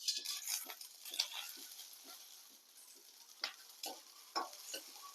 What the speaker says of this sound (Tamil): இதெல்லாம் இப்போ நம்ம இந்த கடாயில் போட்டு வறுத்து எடுத்துக்கலாம்.